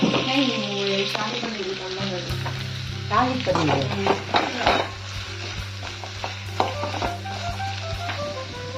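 Garlic and onions fry in a pan for shahi paneer. A continuous close sizzle runs throughout, broken by scraping and clinking stirring strokes, with no voices.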